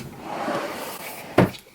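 A vanity drawer slides and shuts with a single sharp knock near the end, close and clear, after a brief rustle of handling.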